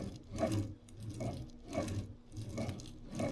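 A ball nut drags along a ballscrew being aligned, giving a rhythmic scraping whir that swells and fades roughly every second as the nut travels back and forth, close and fairly loud.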